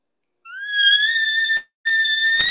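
A voice imitates an elk bull location call without a tube: a rising, high whistled bugle held for about a second, a brief break, then a second strong squeal, close and loud.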